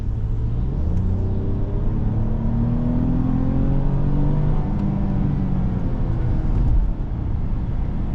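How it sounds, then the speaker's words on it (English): A 2019 Toyota Camry XSE engine under hard acceleration: continuous in-cabin rumble with climbing revs that rise through several gear pulls, loud and steady, no speech. "Let's see if we can get some acceleration here."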